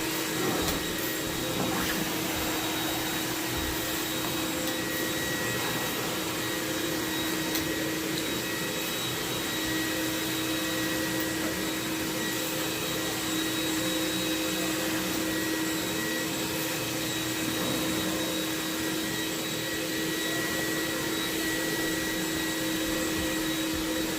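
A carpet cleaning machine runs continuously while cleaning the carpet of a home, a loud, steady whine and hiss holding level throughout with no talking.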